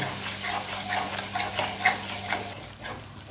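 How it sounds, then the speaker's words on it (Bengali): Ground spices, red chilli powder and half a tablespoon of turmeric, fry and get stirred in a pan over a medium gas flame, with a steady close sizzle and soft scraping strokes that ease off near the end. "গ্যাসটাকে মিডিয়াম ফ্লেমে 2 থেকে 3 মিনিট মশলাটা কষিয়ে নেব"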